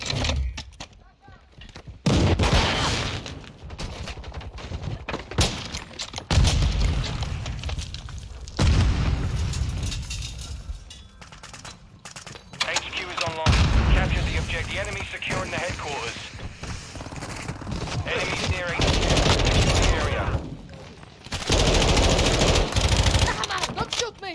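Gunfire and explosions from the video game Modern Warfare II in multiplayer, with repeated bursts of automatic fire and heavy booms across the stretch, loud and close, while voices talk over parts of it.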